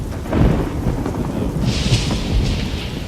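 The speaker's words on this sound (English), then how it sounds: "Thunder." Thunder rumbles through a rainstorm in the game Fallout: New Vegas, a deep rolling boom over steady hissing rain, with a brighter rain wash swelling in the second half, no speech.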